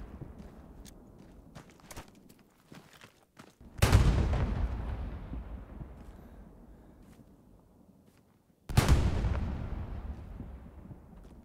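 Artillery shells land in Hell Let Loose, two heavy, loud booming impacts a few seconds apart, each rolling off in a long rumbling tail, with faint scattered clicks and shuffling footsteps in between.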